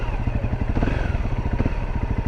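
A 2018 Honda CRF250L motorcycle engine runs close by, with a steady, rapid thumping idle pulse and a slight rise in revs midway.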